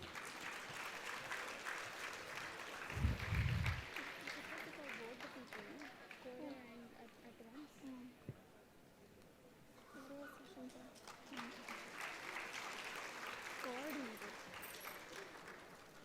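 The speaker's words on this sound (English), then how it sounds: "Give a round of applause," Round of applause from a conference audience of students, a steady broadband patter lasting most of the stretch, with a brief dip midway and a speaker's voice and music-like tones running underneath.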